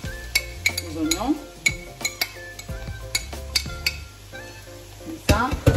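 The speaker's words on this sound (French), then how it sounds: "et on va venir mélanger avec les oignons, comme ça." A spoon stirs onions with spices, coriander and garlic in a sizzling pan, giving close, uneven clinks and scrapes against the metal over a soft frying hiss, while someone talks.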